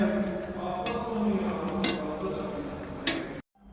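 Chicken jaali kebabs coated in egg fry in a pan, giving a steady close sizzle with a few sharp clinks and taps, then the sound cuts out abruptly near the end.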